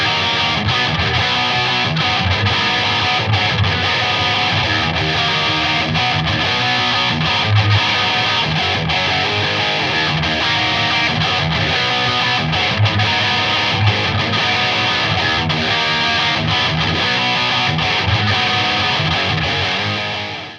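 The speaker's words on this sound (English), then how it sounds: "The last pedal of 2013, and indeed the digital era, was the DA2 Adaptive Distortion." An electric guitar plays through a Boss DA2 Adaptive Distortion pedal, giving a dense, saturated distorted tone that runs loud and unbroken throughout with no voices.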